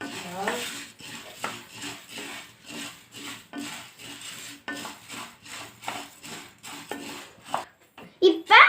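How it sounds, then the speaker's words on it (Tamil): Coriander seeds dry-roasting in a pan over low heat are stirred with a utensil, producing intermittent scraping and rattling strokes close up, with a brief voice near the start and sharper clatters at the end. "இது எல்லாத்தையும் நம்ம நல்லா லேசாக கிண்டி விட்டுறலாம்"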